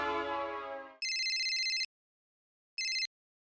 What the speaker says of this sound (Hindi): मेहता साहब जेठा प्रा फोन लगाओ ना।